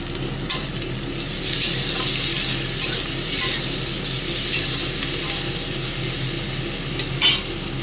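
Tomatoes and coriander leaves sizzling in a hot frying pan for a Bengali bhetki fish curry, a steady close hiss with repeated scraping stir strokes and soft clinks, no talking.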